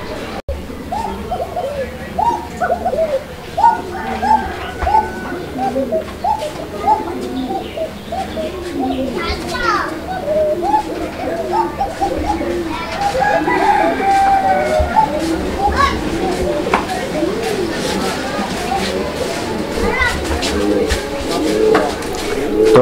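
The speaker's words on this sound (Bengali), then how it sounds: "তো এই কবুতরটা যে বাইরে এসে ডাকছে, এটাই অনেক বড় ব্যাপার।" A pair of fancy pigeons cooing close by, repeated soft throaty coos in a continuous run, with someone talking over much of it.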